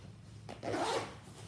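A short zipper pull on a crossbody bag's pocket, a quick raspy zip lasting under a second against quiet background.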